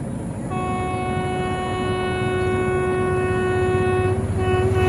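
At night, a train pulls into Begunkodar railway station while its horn blares with a loud, sustained multi-tone blast over the low rumble of the wheels.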